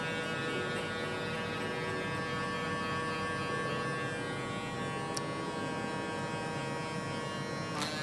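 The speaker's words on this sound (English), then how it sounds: "Open it back up, kind of finesse that fade." Electric hair clippers buzz steadily and quietly while cutting a low taper fade, a constant hum with no pauses and no talk.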